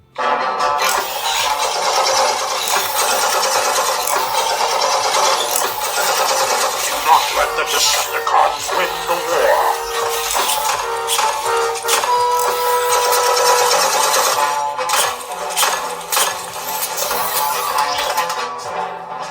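A Robosen Optimus Prime transforming robot toy runs its servo motors in a long sequence of whirring, grinding bursts with stops and starts, close and fairly loud, as a voice talks intermittently over it.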